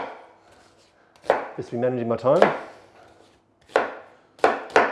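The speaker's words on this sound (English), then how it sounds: "I'm chopping up this onion however it goes" Knife chopping an onion on a board in a kitchen, sharp close thuds in short irregular groups, with a person speaking briefly between the cuts.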